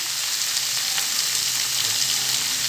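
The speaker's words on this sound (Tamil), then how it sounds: "இது நல்லா கொஞ்சம் நேரம் வதங்கி வரட்டும்" Vegetables sautéing in hot oil for ragi semiya, a steady, close, fairly loud sizzle with a constant hiss and no talking throughout.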